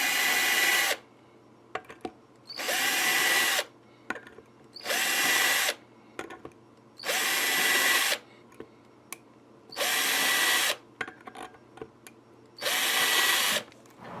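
A small drill press bores string-through holes in a Telecaster guitar body, six loud bursts of whining drilling about two seconds each, separated by short pauses with light handling clicks.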